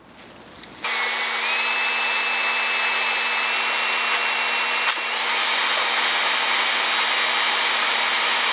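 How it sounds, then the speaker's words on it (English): After a brief quiet start, an air blower kicks on and roars steadily close by, driving air into burning charcoal in a Cuisinart 18-inch vertical smoker. The whine holds constant to the end. "I can blast it with a little bit of air."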